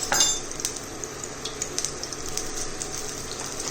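Cumin seeds dropped into hot oil already spiced with green chilies, crackling and popping in a pan at close range, with scattered clinks of a utensil against the pot and no voices.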